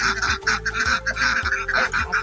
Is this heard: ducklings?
yes